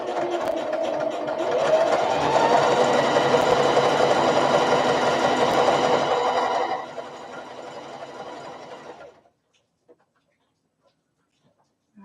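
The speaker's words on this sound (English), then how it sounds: "I am going to back stitch just a couple stitches." Sewing machine running steadily as it back stitches a few stitches while bags are assembled, loud and continuous for about seven seconds, then a quieter stretch before it stops.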